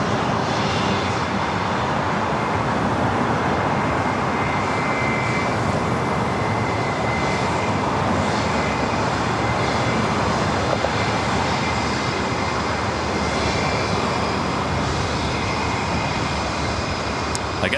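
Sustained roar of a 26-year-old Delta A320 jet airliner on the runway at LAX, loud and steady without letup, with faint talk mixed underneath.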